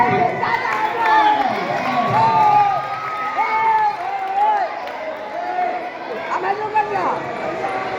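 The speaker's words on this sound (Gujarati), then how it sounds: "આપણે તાળી પાડી" Children at a school science quiz cheering and shouting in a noisy hall, excited voices rising and falling over several seconds with chatter mixed in and little distinct clapping.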